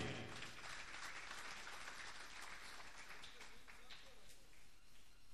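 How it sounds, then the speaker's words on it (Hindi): An audience at a Punjabi poetry gathering gives a round of applause, a soft, even wash of clapping that continues throughout, with a voice speaking over it. "जोरदार तालियां जी"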